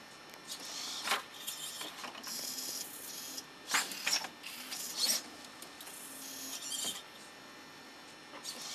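An early page-turning robot flips through a book, giving off bursts of mechanical whirring and dry paper rubbing at uneven intervals over a quiet, steady background hum.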